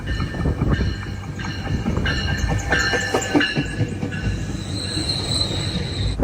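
A southbound GO train rumbles past a station platform close by, wheels clacking and squealing against the rails in a steady metallic roar with high-pitched screeches layered on top.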